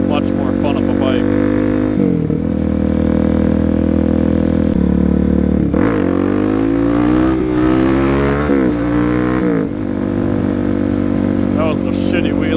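A Suzuki DRZ dual-sport motorcycle engine drones steadily and loud throughout, rising in pitch as it revs hard during a wheelie attempt, then dropping back to a lower rumble near the end.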